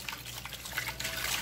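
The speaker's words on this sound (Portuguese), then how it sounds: "Colocar um pouquinho de água." Water trickles and splashes into a basin of homemade clear liquid detergent soap, a short, steady, fairly quiet pour heard close up with no voices.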